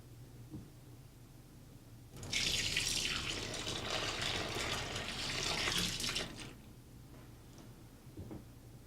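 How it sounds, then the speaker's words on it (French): Hot tap water runs steadily for about four seconds into a malt extract can, rinsing its inside with a bright rushing splash. Quiet room noise comes before and after. "Bien rincer l'intérieur de la boîte à l'aide d'eau chaude."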